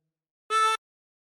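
Breathing in through hole 7 of a chromatic harmonica gives one brief, reedy note lasting under a third of a second, close and isolated with no voices.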